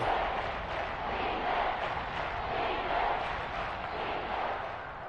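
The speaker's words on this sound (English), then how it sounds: "The crowd getting into it as we come up on a big third down." A stadium crowd in the Madden 23 football video game roars in a steady, distant wash of cheering ahead of a big third down, moderately quiet and continuous without clear peaks.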